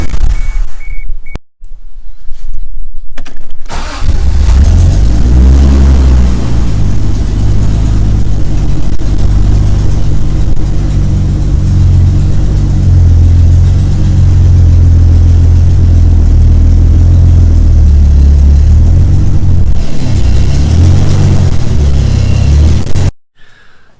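A Mk3 Toyota Supra fitted with a reworked power steering setup cranks briefly, fires up and settles into a loud, steady idle close by, with a slight dip near the end before it cuts off.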